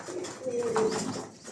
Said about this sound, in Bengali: মা বাবা সবাই ইম্পোর্টেড কবুতর